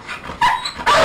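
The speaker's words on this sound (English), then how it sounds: "Thirsty work, all this barking." A dog barks twice in quick succession, loud and close, with a short pause between the sharp barks.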